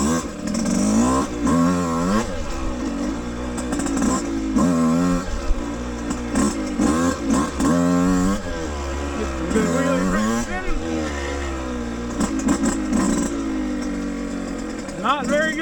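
A Yamaha YZ125X two-stroke dirt bike revs up and down repeatedly while doing wheelies at an off-highway vehicle riding area, its engine rising and falling in pitch close to the rider.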